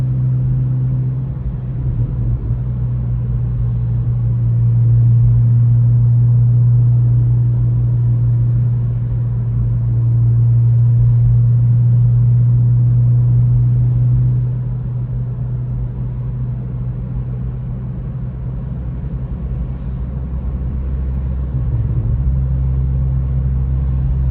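A 2023 Acura Integra fitted with a Remark exhaust cruising in light night traffic, its steady low drone shifting in pitch as the car downshifts from fourth to third gear, with no talking.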